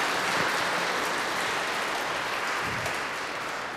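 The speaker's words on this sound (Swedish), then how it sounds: "mt tack till PC Järskild och Ingrid Karlberg med en applåd, tycker jag." Warm applause from an audience in an auditorium at a Swedish book evening on psychiatry, a dense steady wash of many hands clapping that carries on evenly, fairly loud, with no talk over it.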